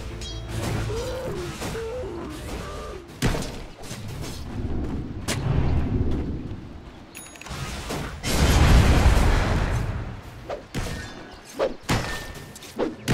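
Dota 2 match with a tower under attack: heavy booming impacts and thuds, mechanical clanks and crashing blasts rise and fall across the clip, loud and busy with no talk.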